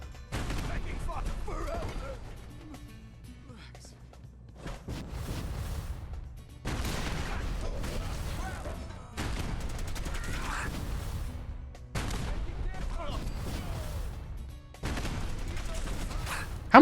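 Weapons fire in Fallout 4, including a missile launcher, comes in several loud bursts of booming blasts and rapid gunfire separated by short lulls, with a voice talking intermittently underneath.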